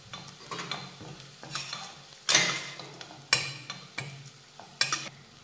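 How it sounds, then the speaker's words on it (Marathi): A spatula stirs onion-garlic masala with lightly browned onion in a frying pan: a soft sizzle under repeated scraping strokes, with several sharper metallic scrapes at a steady rhythm, close by and with no talk. "मसाला परतून घेऊयात।"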